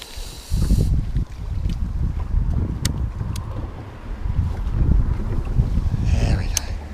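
Wind buffets the microphone while fishing for pike from a boat in Finland, a steady loud rumble with water noise, continuing under a voice.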